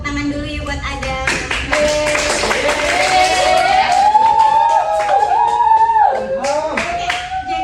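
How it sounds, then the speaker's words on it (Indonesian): A classroom of students claps for a classmate, a busy patter of many hands that carries on steadily for several seconds while a voice rises and falls over it. "Tepuk tangan dulu ya buat Adam"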